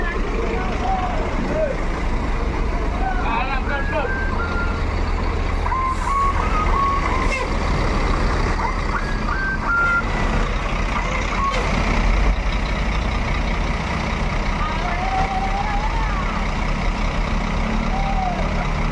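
A Mior Parlente bus reverses with a steady engine rumble, repeated reversing beeps and bursts of air-brake hiss, while a voice talks over the sounds.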